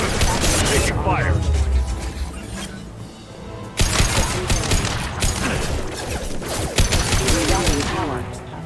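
Gunfire in the video game Mass Effect Legendary Edition, dense overlapping bursts and impacts with a short lull before the shooting picks up again, while voices talk over the fighting.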